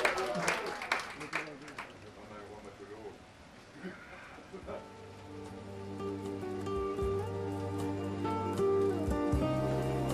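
An audience applauds a shanty choir after its farewell song on a rainy canal boat trip aboard the Friedrich der Grosse in Herne; scattered clapping is loudest at first, then fades under sustained music and voices.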